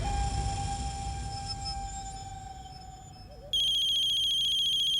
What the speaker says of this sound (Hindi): अननोन नंबर से फोन आ रहा है मैडम।